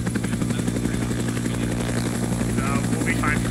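Helicopter in Arma 3 with a steady, loud rotor and engine drone filling the whole clip, pulsing evenly throughout as voices talk over it.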